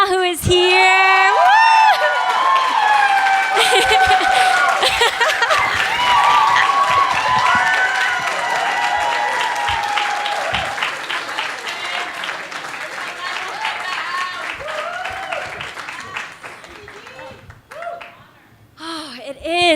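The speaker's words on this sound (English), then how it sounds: "I would like you to give you a huge round of applause to my mama who is here." Audience applause with cheering and whoops at a poetry slam feature performance, honoring the poet's mother; loud, dense clapping that gradually thins and fades, with a voice speaking over it near the end.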